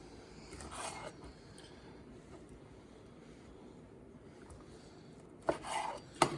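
A knife chops sausage into half chunks on a board, with a quiet background hiss through most of the take and a few sharp, close chops clustered toward the end.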